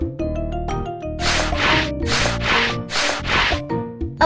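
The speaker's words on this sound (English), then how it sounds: "Use sandpaper to polish the rough wood." Sandpaper rubs over rough wood in a cartoonish building game, four or five rhythmic scratchy swipes laid over bright tonal game music.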